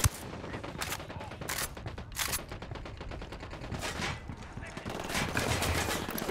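Sniper fire in Ghost Recon Wildlands: loud gunshot cracks in uneven bursts, some overlapping in quick volleys, with voices heard in between.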